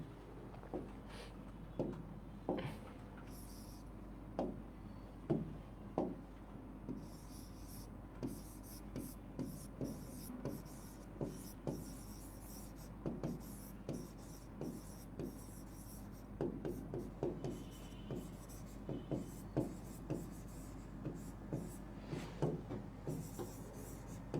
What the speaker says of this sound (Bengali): আমি তোমাদের হচ্ছে গিয়ে একটা ওয়ার্ড এখানে একটু লিখবো